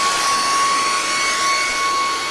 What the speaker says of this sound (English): Then we have our cordless stick vacuum.